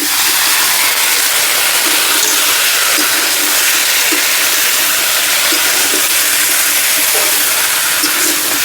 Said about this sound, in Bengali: এবার সব সবজিগুলো ঢেলে দেবো।